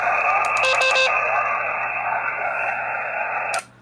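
A ham radio transceiver hisses with static and a steady tone as the signal is lost in noise, a few brief clicks near the start, before the noise cuts off abruptly.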